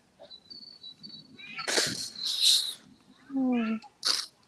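A single loud sneeze breaks into a quiet room, followed by a few short voiced sounds and a brief sharp exhale, all close by.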